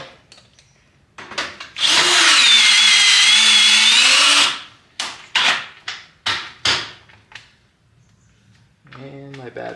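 A cordless power drill drives self-tapping screws into the metal panels of an Arrow shed, one sustained whirring run followed by several short bursts, close and loud, with a voice speaking briefly at the end.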